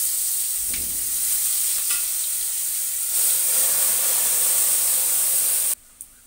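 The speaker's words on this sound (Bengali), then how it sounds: "এবার মশলাটা আস্তে করে দিয়ে দেব, ভীষণ তেল ছেটেছে" Spice masala frying in hot oil, with a loud, continuous sizzle and spatter that cuts off abruptly near the end.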